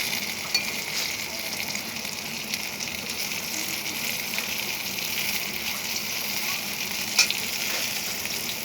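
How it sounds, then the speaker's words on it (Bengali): Eggplant slices fry in a pan over a gas flame with a steady, close sizzle and faint crackle throughout, broken by one or two brief sharper pops and no talking. "এটা বেগুন ভাজা হয়ে গেছে"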